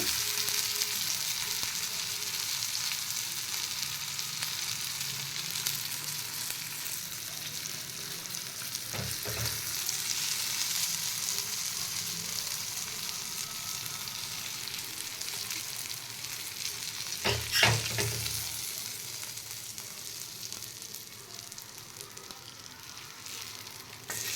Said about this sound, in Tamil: இதுதான் ஃபிஷ் ஃப்ரை.